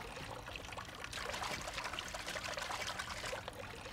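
Water pours in a close, bubbling trickle that swells into a fuller splashing stream after the first second and continues unevenly.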